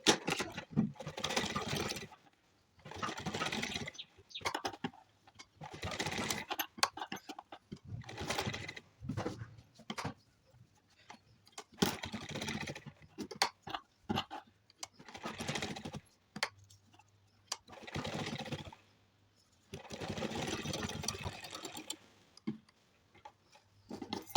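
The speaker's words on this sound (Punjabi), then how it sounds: "ਵੱਡੇ ਟਾਂਕੇ ਨਾਲ ਸਿਲਾਈ ਕਰਾਂਗੇ ਜੀ ਆਲੇ ਦੁਆਲੇ ਚਲੋ ਆਪਾਂ ਸਿਲਾਈ ਕਰਦੇ ਹਾਂਗੇ" Sewing machine stitching a kurti neckline with long stitches, running in repeated bursts of rapid mechanical ticking separated by short pauses, close and fairly quiet with no talking.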